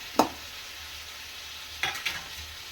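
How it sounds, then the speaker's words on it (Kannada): Masala-stuffed ridge gourd fries quietly in a pan, a soft low sizzle with a few sharp scrapes and clinks of stirring, fairly faint and without talking. "ಹೀರೆಕಾಯಿನ ಮಸಾಲೆ ತುಂಬಿ ಅದನ್ನು ಹಾಕ್ಕೊಂಡು ಇದನ್ನು ಸ್ವಲ್ಪ ಫ್ರೈ ಮಾಡ್ಕೊಳ್ಳೋಣ."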